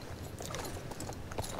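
Horse hooves in the video game Star Stable Online clip-clop in a steady, even rhythm at moderate volume, the rounded thuds running continuously through the short stretch with no talking.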